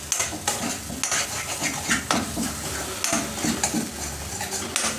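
Masala with curry leaves fries over a low flame for a homestyle drumstick vegetable dish, a dense continuous sizzle broken by frequent scraping and clinking as a spoon stirs the pan.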